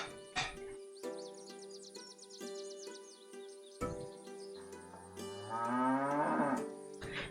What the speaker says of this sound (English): I heard impatient mooing from the shed.